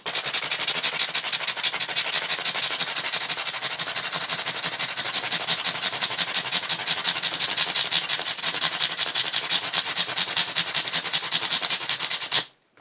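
Steady, fast, rhythmic rasping of sandpaper scrubbing a guitar neck, loud and close, continuing without pause until it stops at the end.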